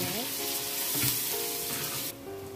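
Onions hiss and sizzle steadily in hot oil for a handi egg biryani, a close, continuous frying crackle with a brief swell near the middle and a faint tonal hum underneath.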